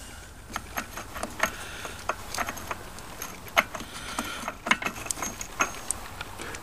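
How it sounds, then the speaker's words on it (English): Metal clicks and light jangling as a new front sprocket slides onto a dirt bike's output shaft, scattered close taps and scrapes over a quiet background. "Next, install the new front sprocket. It should just easily slide on."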